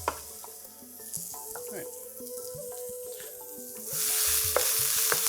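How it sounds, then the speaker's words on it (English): Onions and garlic fry and get stirred in a pan for Thai red curry, with a steady sizzle and spatula scrapes. A tap runs water near the end, and a voice speaks briefly. "We're just trying to cook out the rawness of the onions and garlic there."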